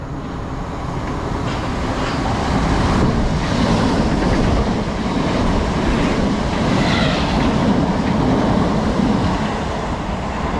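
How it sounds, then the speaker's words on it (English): A pair of Class 455 electric commuter trains rumble past nearby in a loud, continuous roar with rhythmic clatter from the wheels, steady throughout and without voices. "we've got a pair of 455s coming through"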